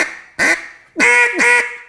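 A hunting-style duck call blows three loud, close quacks, the first a single honk and then two rasping notes in quick succession, each sharp reedy call standing alone without talk.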